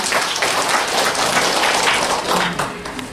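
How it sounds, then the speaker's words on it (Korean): Audience applause at a poetry literary award ceremony, a short burst of dense, loud clapping from a crowded room lasting about three seconds. "이 자리를 함께하신 모든 분들께 뜨거운 박수 부탁드립니다."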